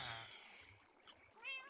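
A cat meows several times in quick succession outdoors near a house where three cats are kept, with a higher drawn-out meow closing the sequence, moderately close.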